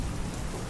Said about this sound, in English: Wind screamed around the tower, rain lashed the glass.